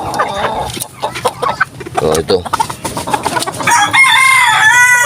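Chickens cluck loudly nearby and a rooster crows near the end, while a person talks over the birds in Tagalog.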